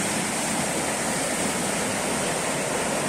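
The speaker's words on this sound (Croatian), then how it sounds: "Rijeka Janjina." Janjina river rushing steadily, a dense, continuous broadband roar of flowing water heard close and loud without any pause or voices.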